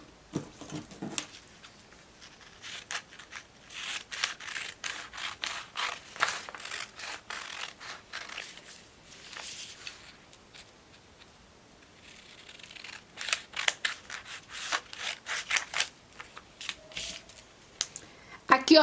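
Scissors cut fabric for a slipper pattern in quick bursts of crisp snipping clicks, fairly close, with pauses between runs and a voice talking at times.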